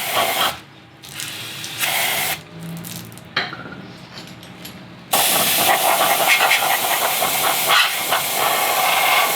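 Short hissing bursts of aerosol spray onto an engine long block's rotating assembly, a few separate blasts with pauses between, then a longer continuous spray near the end, close and fairly loud.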